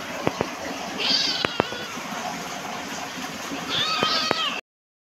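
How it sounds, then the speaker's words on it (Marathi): A house cat meows twice, fairly close and clear, each call rising and falling, with a few sharp knocks and a soft background hiss between them. "तर ही आपली दुसरी मांजर"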